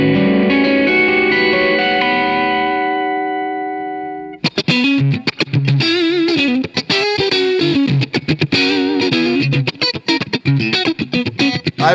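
Electric guitar played through a Fender amp simulator app on iPhone or iPad, modelling a 1965 Super Reverb: a long sustained chord rings out and fades, then fast, loud strummed and picked phrases with overdrive follow without pause.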